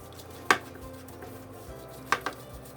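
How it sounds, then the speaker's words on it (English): Sugar and brown sugar being mixed into oil in a bowl for cookie dough gives a few sharp utensil knocks against the bowl, one early and a pair later, close but sparse, over a quiet background. "mix it all together really well till all of it is absorbed by the oil"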